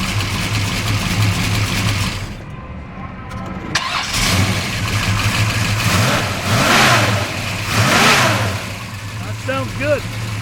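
1969 Chevelle with a big block solid lifter roller engine at a downtown Flint car show: the engine cranks and fires, then revs repeatedly in loud surges before settling to a rough idle, with people talking over it.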